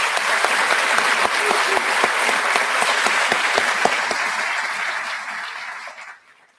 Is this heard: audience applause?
yes